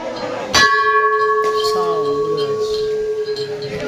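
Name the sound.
bell being rung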